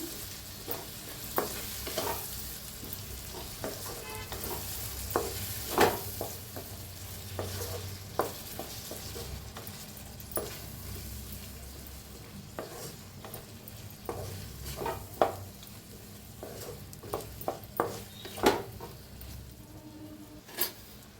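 Curd is stirred into masala in a pan for masale bhaat: repeated spoon scrapes and taps in an irregular rhythm over a soft, continuous sizzle, fairly quiet throughout.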